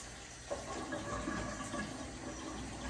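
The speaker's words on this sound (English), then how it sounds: "we have the strong Kangen water coming out the top hose, which is super alkaline" Strong alkaline water pouring from the top hose of a Kangen water ionizer machine, a steady, soft gushing stream that runs evenly without pause.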